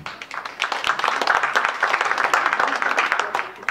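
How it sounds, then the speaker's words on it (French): A packed comedy-club audience at a French stand-up show claps together in a dense, steady burst of applause that holds for several seconds at close range, with no voices over it. "Par applaudissement."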